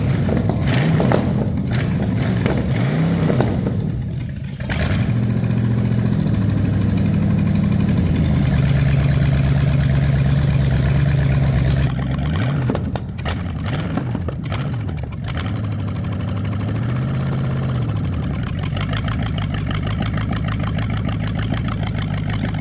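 A Ford 460 big-block V8 bought cheap secondhand idles and warms up, a loud, steady, close rumble that runs throughout with a few slow shifts in engine speed.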